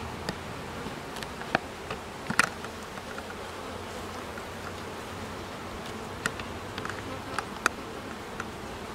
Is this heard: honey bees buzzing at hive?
yes